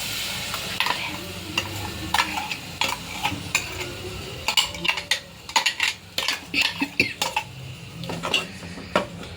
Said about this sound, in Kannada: ಇದು ರುಬ್ಬಿರೋ ಪ್ಯೂರಿ ಹಾಕೋತಾ ಇದ್ದೀನಿ.